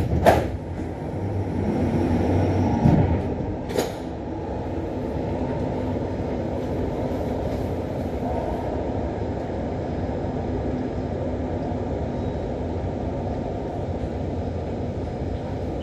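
Driverless M5 line metro train running along the track, a steady loud rumbling roar heard from on board with a couple of sharp clicks near the start.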